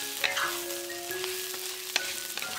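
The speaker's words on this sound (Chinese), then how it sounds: "煎到虾两面变色，把姜丝放进来翻炒几下" Shrimp searing in a pan, then tossed with shredded ginger, giving a steady soft sizzle with a few sharp clinks and stirring scrapes of a utensil against the pan, no voices.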